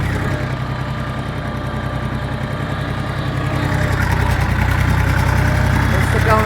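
Kentavr 244SX mini tractor engine running in fourth low gear on an off-road track, a steady low diesel drone and rumble that grows slightly louder partway through.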